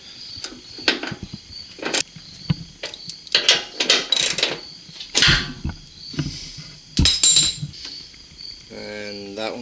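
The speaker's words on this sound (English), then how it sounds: "Get that with my ratcheting wrench." A ratcheting wrench works loose the inner fender bolts on a GMC Sierra pickup, giving sharp metallic clicks and rattling bursts close by, ending in a rapid ratchet run.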